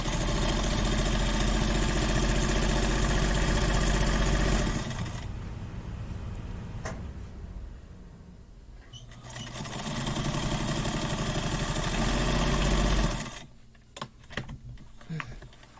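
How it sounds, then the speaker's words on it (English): A sewing machine stitches quilt rows together with a 1/4 inch seam, running in a steady, loud mechanical hum for several seconds. It stops, then starts again for a second long run before going quiet. "I'm going to sew all of them together."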